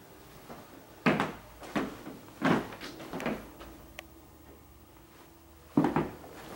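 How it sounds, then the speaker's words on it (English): Floor in a house with worn carpet makes a few distinct creaks and knocks, several spaced thumps with pauses between them, close and moderately loud, with no talking. "That's just a noise from the floor."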